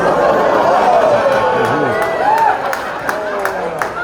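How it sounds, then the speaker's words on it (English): A stand-up comedy crowd breaks into applause and cheering, a dense, close wash of clapping and voices lasting a few seconds and easing toward the end. "You got like a full-on applause break for a dead guy."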